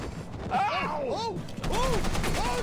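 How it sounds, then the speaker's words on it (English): Enemy gunfire in the Content Warning video game, a rapid string of shots mixed with warbling sweeping electronic tones, loud and continuous with voices underneath. "Oh, shoot, he's shooting at us."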